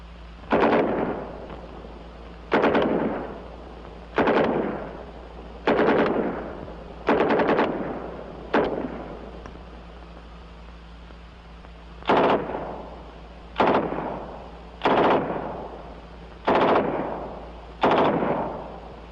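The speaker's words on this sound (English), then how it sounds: "And our new submachine pistol caliber 45 M3. Command. Firing." An M3 .45 caliber submachine gun fires about a dozen short, loud bursts, each sharp and clattering with a brief decaying echo, spaced evenly apart with a pause near the middle.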